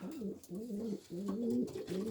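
Homing pigeons coo in a loft, soft low rolling calls repeated in three or four close phrases with brief pauses between them.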